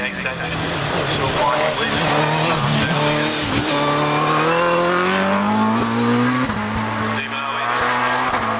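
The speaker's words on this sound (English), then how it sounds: "Steve Owen on the hill now with the OMS 28 with the RPE V8 engine" Steve Owen's OMS 28 race car with an RPE V8 engine on the Harewood hillclimb, a loud, continuous high-revving engine close by with rising gear-change sweeps and a sharp shift near the end.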